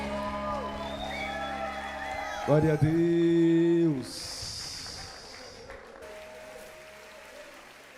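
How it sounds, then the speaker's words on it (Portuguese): A church congregation applauding during a sermon, with sustained clapping under held keyboard chords and a voice speaking over it. "Uma salva de palmas ao Senhor."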